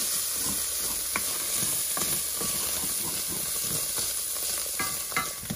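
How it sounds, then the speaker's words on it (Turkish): Fatty meat sizzles steadily in a hot pan in a rural Hatay kitchen, a dense continuous frying hiss with occasional crackles and stirring taps throughout. "Burada birazcık yağlı etim var iyice. İyice bunu şöyle kavrayayım azıcık."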